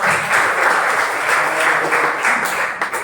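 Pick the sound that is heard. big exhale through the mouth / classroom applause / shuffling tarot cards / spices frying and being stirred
classroom applause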